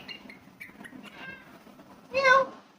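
A pet parrot gives one short, bright meow imitating a cat near the end, following soft human talk and quiet background.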